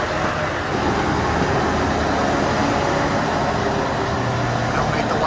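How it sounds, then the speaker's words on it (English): A vineyard tractor with steerable rear axles rumbles past on a road in Europe, a steady, loud engine drone that holds throughout. "here comes a vineyard tractor"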